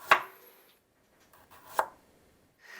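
Knife chops on a cutting board at a kitchen counter, two distinct sharp strikes about a second and a half apart, fairly close and clean, followed by a faint softer tap, with no talking.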